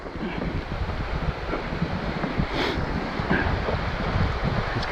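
Wet, windy weather on the Devon coast while out fishing at sea: a steady roar of wind buffeting the microphone over breaking waves and splashing water, constant and fairly loud throughout with no talking.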